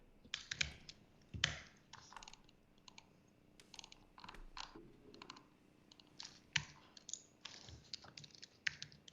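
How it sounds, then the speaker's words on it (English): Typing on a computer keyboard at a desk, a steady run of close, crisp keystrokes and clicks in irregular bursts, with no talking. "So I'm going to type it."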